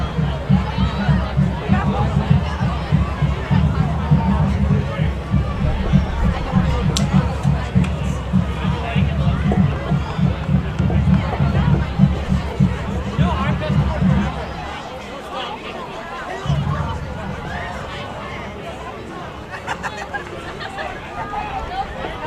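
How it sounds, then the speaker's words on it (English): A crowd at a high school football game between Milton and Edgewood keeps up a steady, babbling roar with a low rumble for about fourteen seconds, then thins briefly before the noise returns. "Cheerleaders keeping the crowd going as we continue."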